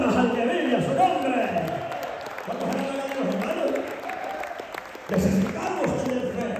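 A church congregation applauds as a palm offering, steady clapping blended with voices and shouts throughout.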